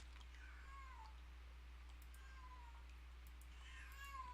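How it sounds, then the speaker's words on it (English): A cat meows several times in the background, soft drawn-out cries repeating at a steady pace over a low constant hum, with no talking. "Excuse my cat in the background,"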